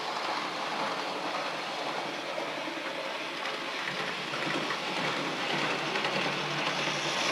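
A steady whirring hum of a Midland Pullman model train motor runs continuously, fairly quiet, with a faint rolling rattle underneath.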